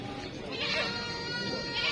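A Rambon goat, a breed similar to the Bligon, bleats at a livestock market amid steady crowd noise and people talking nearby.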